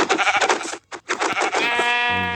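A Minecraft sheep bleats in the video game, a loud, close, wavering cry repeated in quick bursts, followed by a sustained tonal sound at the end.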